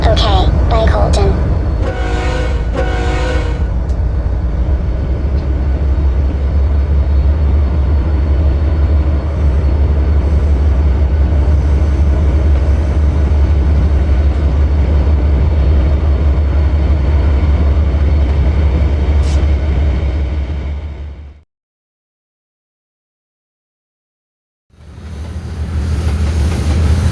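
A freight train bound for Allentown, Pennsylvania rolls past with a loud, steady low rumble and rattle, then cuts to sudden silence before the noise resumes.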